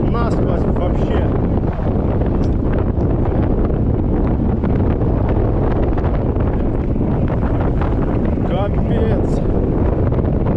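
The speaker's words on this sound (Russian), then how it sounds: "Не помню, чтобы тут такой был ветер." Strong wind sweeps across open terrain in Crimea, roaring and buffeting the microphone loudly and without a break throughout.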